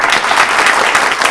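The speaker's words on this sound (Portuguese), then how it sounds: "palmas para o Ciro Gomes" Steady applause from a studio audience at a Brazilian presidential election debate, dense clapping at an even loudness throughout, with no voices standing out.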